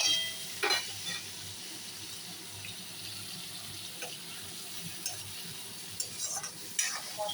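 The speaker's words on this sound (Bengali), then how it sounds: "এবারে সজনে ডাঁটাগুলো দিয়ে দিলাম, সব একবারে দিয়ে দিলাম।" Drumstick pieces go into a pan with tomato and green chili paste and fry with a steady broadband sizzle, broken by a few louder stirring scrapes and clatters near the start and end, with no talk.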